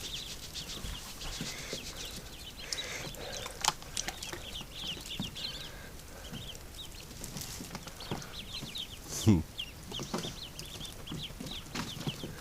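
Small ducklings peep and chirp in short, scattered calls, fairly close and soft, with light shuffling and barnyard-like rustling around them.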